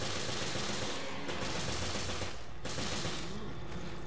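Gunfire in the video game Resident Evil Revelations, a dense, continuous wash of rapid shots and noise at steady moderate level throughout, with a couple of brief dips.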